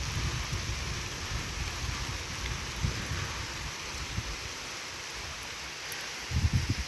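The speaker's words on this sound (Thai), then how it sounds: "ฝนตกใส่" Rain falls across open rice paddies in a steady soft hiss, with low rumbling gusts and a couple of louder swells near the end.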